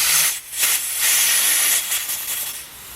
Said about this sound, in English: the release valve here for the air tank is leaking